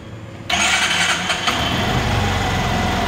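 An Aprilia SXR 160 scooter engine starts abruptly after a short quiet moment, then settles into a steady, close, loud idle with a faint rise in revs.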